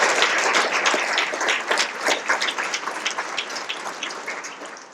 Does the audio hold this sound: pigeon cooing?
no